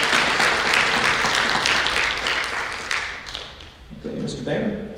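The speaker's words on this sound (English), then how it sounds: "I think he deserves a round of applause." Audience applause fills a school board of education monthly meeting, a dense wash of clapping that fades out near the end as a voice begins speaking.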